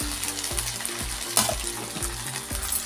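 Tomatoes tipped into a hot frying pan of ginger-garlic masala sizzle steadily, with repeated stirring scrapes and thumps of a spoon against the pan, close up and with no voices.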